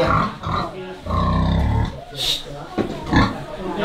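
A very large farm pig, being led out of its pen ahead of a Hmong wedding, grunts in several deep, rough bursts close by, with people's voices mixed in between.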